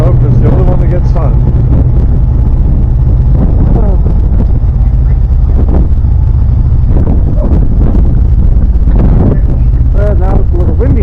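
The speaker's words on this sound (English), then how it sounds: "Now it's a little windy out here." Loud, constant wind buffeting a microphone with a heavy low rumble on a ferry deck, while a person talks underneath throughout.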